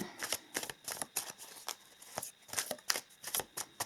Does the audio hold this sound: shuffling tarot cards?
yes